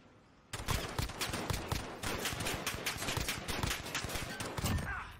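Rapid video game gunfire in a one-on-one gunfight rattles continuously after a sudden start, dense and loud with no pauses.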